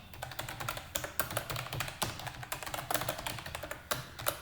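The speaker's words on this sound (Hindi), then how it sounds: "एड्रेस जो है वो टाइप कर देता हूँ।" Rapid keystrokes on a computer keyboard while an address is entered into business accounting software, steady close clicking with irregular rhythm and no talk.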